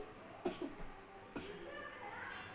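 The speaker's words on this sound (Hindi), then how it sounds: "ऐसे ही खांसी हो रहा है इसको।" A child coughs a few times, short, faint, slightly wet bursts spaced apart indoors, with a quiet background hum.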